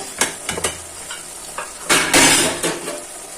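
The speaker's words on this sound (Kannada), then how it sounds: "ಸ್ವಲ್ಪ ಪಾತ್ರೆ ಸೌಂಡ್ ಬರುತ್ತೆ" A pot and metal utensils clink and scrape sharply while tomato rice (chitranna) is stirred, with quick close knocks and a longer scraping burst over a faint sizzle.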